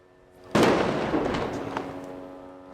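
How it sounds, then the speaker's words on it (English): Gunfire from a street battle in Rafah, heard as one sharp loud crack followed by a long rolling echo and rumble that slowly fades, with no voices. "As we were filming, there was a gun battle in the next street."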